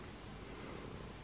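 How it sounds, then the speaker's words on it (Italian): A house cat purrs softly and continuously, a faint low rumble with no other sounds. "gatta Stellina fa subito le fusa. Non so se la sentite"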